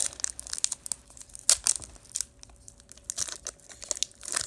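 Foil wrappers of sports trading card packs being torn open and crinkled by hand, close and fairly quiet, with irregular ripping bursts and rustling and no talking.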